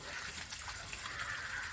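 Water running steadily from a water filter tap during rinsing, a continuous gushing flow heard close with no talk over it.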